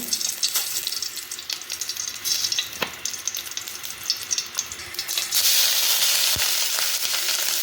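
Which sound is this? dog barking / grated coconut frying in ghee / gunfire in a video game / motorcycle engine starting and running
grated coconut frying in ghee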